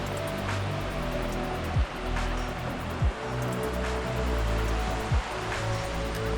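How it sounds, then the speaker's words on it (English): Steady broadband rush of a waterfall along the Machinchang Peak hiking trail, a constant roar of falling water with no talk, at an even level throughout. "before you go over the edge of that waterfall"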